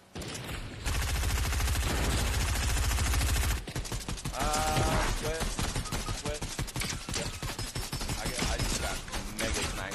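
Video game gunfire: a sustained burst of rapid automatic fire, then a dense run of repeated shots and mechanical clatter, loud and close, with a voice briefly under the shooting.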